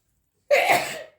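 A single sudden sneeze bursts out close to the microphone during home recipe preparation, a short sharp blast that fades within about half a second after silence.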